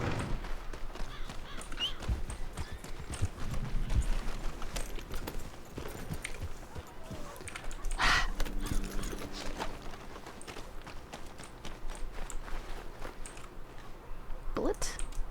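Horse hooves clip-clopping in a western video game, irregular walking thuds and clops running throughout with game ambience and occasional louder bursts, partly under someone talking.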